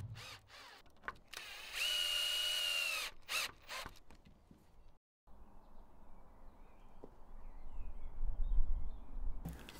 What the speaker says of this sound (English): then I can get some screws driven into the top two pieces, and then I can do the same on the bottom supports